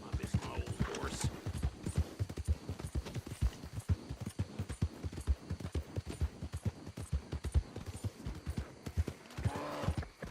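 Horse hooves clip-clopping at a steady walking rhythm in the Red Dead Redemption 2 video game, close and fairly quiet, with a short whinny near the start and another near the end.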